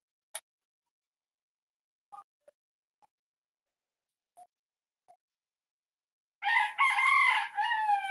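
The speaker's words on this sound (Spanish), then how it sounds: "Disculpen a las gallinas, chicos, los gallos" Chickens and roosters at dusk: a few faint, scattered clucks early on, then a loud, close rooster crow with a sustained, wavering call near the end, with no talking.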